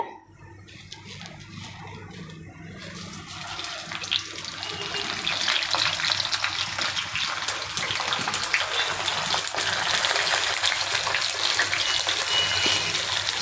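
Mustard seeds and cumin tempered in hot oil for a coriander chutney, giving a dense hissing sizzle that swells after a few seconds and then holds steady and fairly loud, with no voices over it.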